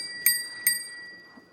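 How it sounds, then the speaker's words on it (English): Two quick bright dings ring out from the bicycle bell on a ONEBOT S7F folding eBike, about half a second apart, each fading fast into near-silence. "we got to test the bell out."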